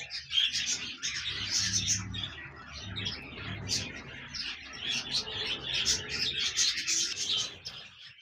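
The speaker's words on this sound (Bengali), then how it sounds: "এখানে দেখতে পাচ্ছেন এক জোড়া ফিন্স পাখি রয়েছে" A pair of finches at a bird farm chirp continuously, quick high tweets layered in a busy, fairly close chatter with no talking.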